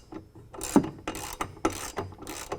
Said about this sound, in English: I'm going to tighten down the pinch weld bolt